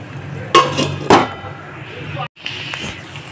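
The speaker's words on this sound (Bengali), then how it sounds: "এখন আবার থালা দিয়ে চাপা দিয়ে দেব।" A plate is set down over a pan of okra and potato curry, two sharp clinks of metal and crockery about half a second apart, near and fairly loud, over a low kitchen hum.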